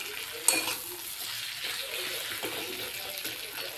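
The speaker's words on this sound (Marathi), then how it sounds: "आणि आपण घातलेला आहे तो टोमॅटो त्याच्यामध्ये अशी मस्तपैकी फ्राय करून घेऊयात" Chopped tomato fries in a pan for khar vang, a close, steady sizzle with a sharp scrape of stirring at the start and soft spluttering that carries on after it, with no voices.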